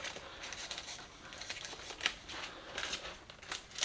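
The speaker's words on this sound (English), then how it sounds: "cleaning it up is usually a little easier to do with a pair of scissors" A pair of scissors snips at a plastic suction hose to tidy its cut edge, giving a series of quiet, close, crisp cuts and crinkles in an irregular rhythm.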